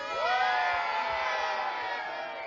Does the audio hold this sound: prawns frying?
no